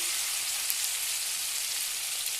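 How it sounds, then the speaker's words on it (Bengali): Tomatoes cooking in oil left over from frying shrimp, a soft, even crackling sizzle that holds steady throughout, fairly quiet and with no talking. "চিংড়ি মাছ ভাজাটা তোলার পরে যে তেলটা ছিল সেই তেলের উপরে দিয়ে দিয়েছি টমেটো"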